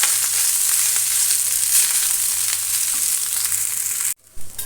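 Jeera rice stirred in a frying pan: loud continuous sizzling and scraping that stops abruptly just before the end.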